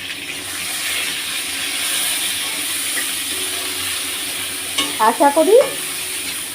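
Brinjal frying in a pan with green chilli and salt gives a steady sizzle, then a short burst of louder stirring scrapes near the end, with a brief voice heard.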